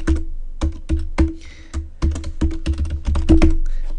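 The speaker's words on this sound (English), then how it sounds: "Let me type in linux.example.com." Steady run of computer keyboard keystrokes, close and fairly loud, typing a hostname into an SSH client while logging into a CentOS 6.3 Linux system, with short pauses between bursts.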